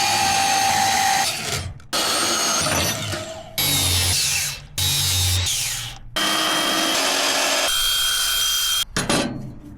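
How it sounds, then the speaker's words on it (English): A power tool cuts a new metal wear plate for a car hauler trailer's suspension hanger, loud and close in five long grinding passes separated by brief pauses, with no talking. "I got a new wear plate marked out. I'm gonna cut it"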